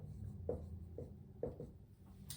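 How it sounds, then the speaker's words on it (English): Marker or chalk strokes on a board, three or four short scratchy marks spaced about half a second apart, close and fairly quiet over a low room hum, with no talking. "let's just write down lifestyle"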